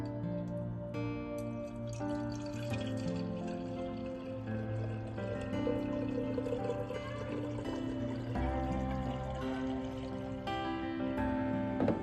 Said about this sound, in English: Then I'm gonna pour my water in.